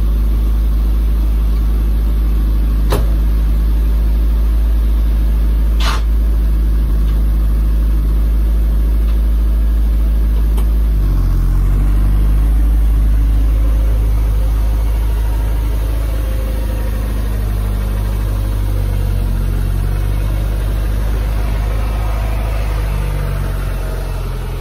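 An MG Maestro Turbo idles at an MOT test station, a steady, loud, low engine drone running throughout with a slightly uneven, lumpy note, punctuated by a few brief sharp clicks and knocks.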